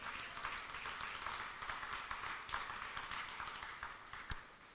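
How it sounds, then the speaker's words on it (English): Crowd applause at a Des Moines Public Schools State of the Schools event, a steady wash of many hands clapping at moderate distance with one sharper clap near the end. "we got to clap for that one more time"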